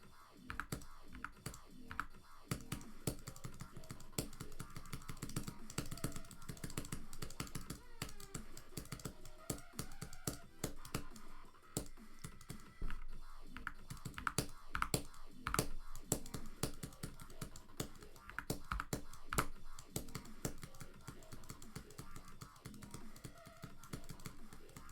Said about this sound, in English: I'm kind of just clicking randomly